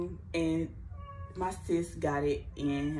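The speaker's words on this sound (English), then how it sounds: "excuse my cat" A house cat meows several times in a row, loud and close, its cries mixed in with someone speaking.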